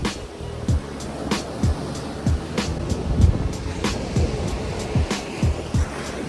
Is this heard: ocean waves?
yes